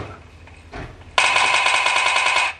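Game gunfire from PUBG on a Xiaomi Mi 9T phone: a short burst of rapid, evenly spaced automatic shots, loud and close, after a quiet lead-in with a couple of soft thuds.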